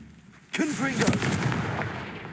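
A fiery Confringo blast spell bursts in Hogwarts Legacy with a sudden loud boom followed by a crackling, rumbling roar that fades out, with a voice speaking over it.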